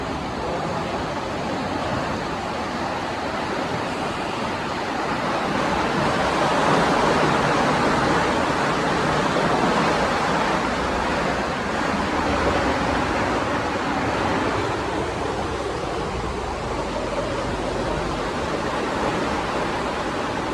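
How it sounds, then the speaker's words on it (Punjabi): Fast water rushing past an old British-built dam, a steady broad roar that swells slightly midway and continues unbroken with no speech. "ਬੰਨ ਲੱਗੇ ਹੋਏ ਪਾਣੀ ਦੀ ਸਪੀਡ ਦੇਖੋ ਬੱਲੀ"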